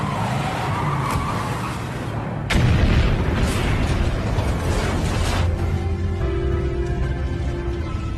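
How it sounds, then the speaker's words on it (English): Car crashing into a laboratory and setting off a huge explosion, a sudden loud boom followed by roaring, rumbling debris and fire that slowly fade. "causing a huge explosion"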